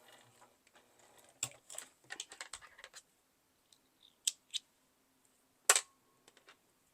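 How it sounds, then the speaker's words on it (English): Scissors snipping sewing threads after stitching a coin purse, a few sharp quiet clicks in short bursts separated by near silence. "Cut off your threads."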